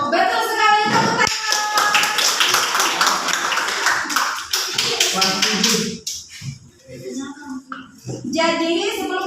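A classroom of students claps their hands together in a brief burst of rhythmic clapping after a teacher's question, then children's voices and shuffling take over before another short patter near the end.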